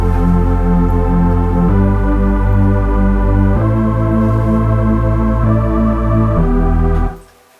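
Sustained synth chords over a thick Reese bass in an electronic club track, loud held changes shifting every couple of seconds before cutting off at the end.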